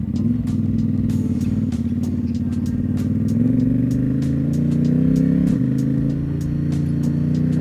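A Ducati Diavel 1260 motorcycle engine runs loud and close with a continuous throaty rumble, its pitch climbing gradually as the revs build.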